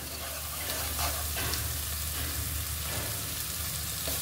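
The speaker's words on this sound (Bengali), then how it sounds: "এটা কিছুক্ষণ আমি একটু কষিয়ে নেব।" Taro being sautéed in a pan with a mash of turmeric flowers and ginger flowers plus chopped coriander, giving a steady close sizzle and frying hiss with a few soft stirring scrapes throughout.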